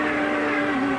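IndyCar race car engine at the 1997 Sunbelt IndyCarnival, heard from the onboard camera: a loud, steady high-pitched engine whine held throughout with a slight pitch dip near the end, no talk.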